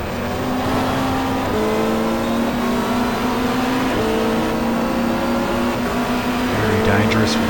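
Hyundai touring race car at a 1995 Super Touring race at Mallala, the engine revving hard through repeated gear changes in rising and falling pitch steps, loud and close.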